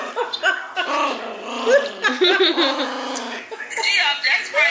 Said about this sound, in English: Who is that growling?